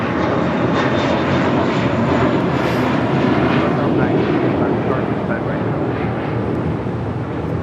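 A JetBlue Airways Airbus A321 jet departing Los Angeles International Airport, its engines giving a loud, steady, broad roar throughout, with a voice talking over it.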